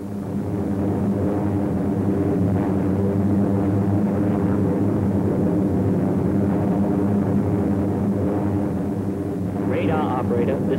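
B-29 Superfortress bomber engines drone in flight, a dense continuous low roar with steady harmonic hum throughout, while someone narrates over it.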